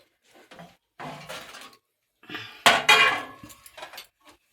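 Metal clinks and scrapes of a lid going onto a cooking pot of bottle gourd curry, a few short clattering knocks with a louder pair of clanks near the middle, close and alone.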